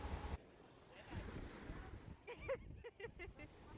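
Surf and wind on a Miami beach, a soft, rushing wash of ocean waves under gusty microphone noise, faint and distant with a few brief voice-like sounds.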